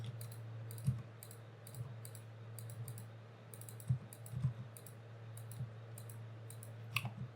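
Mouse clicks while setting up miners in Minecraft, a dozen or so sharp, close clicks spaced irregularly over a steady low hum, with no talking.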